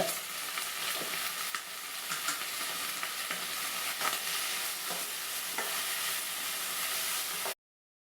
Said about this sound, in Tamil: ஆட் பண்ணி வதக்கினீங்கன்னா கத்திரிக்காய் சீக்கிரம் வதங்குங்க